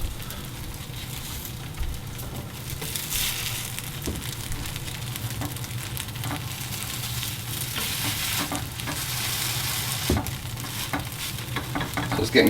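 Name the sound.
protein pancake frying in pan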